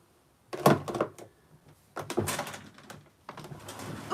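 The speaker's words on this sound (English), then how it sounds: "my drawers have gotten so heavy." A heavy drawer full of makeup slides and thuds three times, opening and closing in separate bursts with quiet gaps between, close by and with no talk.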